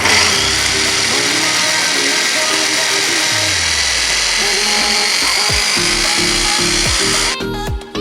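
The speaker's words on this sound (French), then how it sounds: "Je mets ensuite les knackis dans le hachoir. Et je vais ensuite hacher tout ça." Knacki sausages being minced in an electric food chopper, a loud, continuous motor whir with churning, rattling chopping sounds that cut off abruptly near the end.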